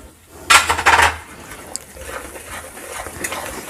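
Fenugreek powder being stirred into roasted flour in a pan over low flame, with a couple of short metallic scrapes and clinks of a spoon against the pan early on, then quieter faint stirring.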